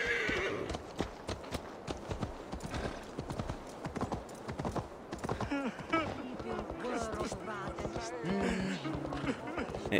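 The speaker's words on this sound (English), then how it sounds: "maybe I can jump on my horse now." Hooves of a horse in the video game Assassin's Creed Valhalla clip-clop in a steady galloping rhythm, close and continuous, with occasional whinnies and someone talking over the ride.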